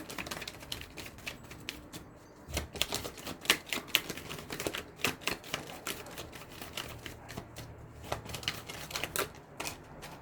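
Tarot cards handled and shuffled in a series of crisp, rapid riffles and flicks, close up, with brief pauses between bursts and a soft background murmur.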